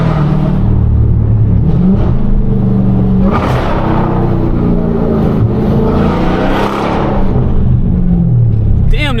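A Dodge Hellcat rumbles through downtown Charlotte streets, its engine revving and swelling in loud bursts with a deep throaty drone, while a person talks over it.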